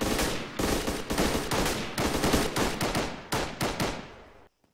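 Sustained bursts of automatic gunfire during a military firefight near a two-story house by a road, loud and close, with rapid overlapping shots in several volleys separated by short gaps, then stopping abruptly.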